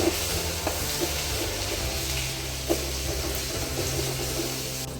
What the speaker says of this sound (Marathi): आलं लसूण पेस्ट घालायची, व्यवस्थित मिक्स करून घ्यायचे तेलामध्ये।